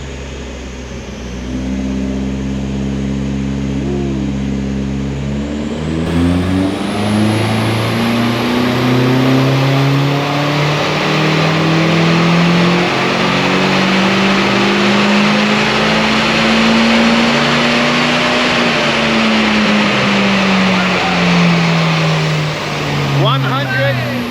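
A Nissan SR20 engine in an N14 car pulls hard on a dyno, its loud close tone climbing steadily through the revs, peaking and then easing off, with a drone before the run begins.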